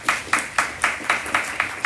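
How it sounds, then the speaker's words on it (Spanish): Audience applause at a book discussion event, heard as a steady series of sharp, evenly spaced claps, about eight in two seconds, moderately loud with no voices over them. "para que pido un aplauso."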